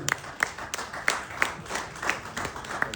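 A small crowd at a film success celebration claps for the producer, sparse sharp claps at a steady rhythm over a faint room murmur.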